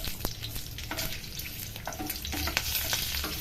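Green chilies frying in hot oil, a dense crackling sizzle with irregular spatters and stirring scrapes, close and steady without talk.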